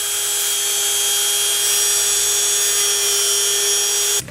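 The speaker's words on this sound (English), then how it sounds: "You can just take your sanding disc part of it" Rotary tool with a sanding disc smoothing a 3D printed PLA part, a loud steady high-pitched whine held without a break for about four seconds before cutting off, no talking.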